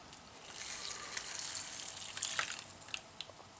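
Water poured into a container to make porridge in a home kitchen, a soft steady hissing splash that runs for a few seconds at low level, with a few small clinks near the end.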